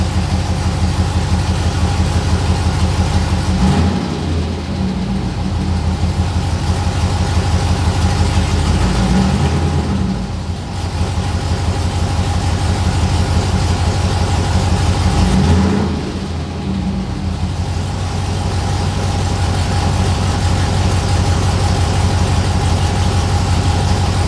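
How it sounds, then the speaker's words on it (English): A 6.0L LS V8 swapped into a Chevrolet S10 idles steadily and loud, with a deep rumbling exhaust and a few brief dips and swells in engine tone. "I'm gonna let it idle for a little bit, I think."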